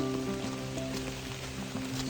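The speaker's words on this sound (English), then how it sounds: "It's been raining for about 25 minutes, I guess." Steady rain falls in a dense, even hiss, with a low constant hum running underneath and nothing else breaking through.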